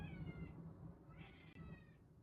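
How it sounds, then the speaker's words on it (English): Pet cat meowing, two drawn-out meows close by and fairly quiet, separated by a short pause over a low background hum. "You hear my cat?"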